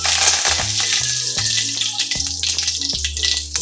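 Mustard seeds, cumin and curry leaves sizzle loudly in hot oil, a steady close crackle with popping seeds throughout.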